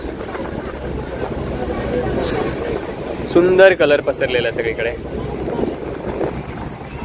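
Boat out on the sea off the Gateway of India in Mumbai, near the Taj hotel at sunset, with a steady rumble of water and wind noise running beneath a person talking throughout.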